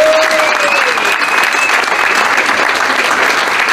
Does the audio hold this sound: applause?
yes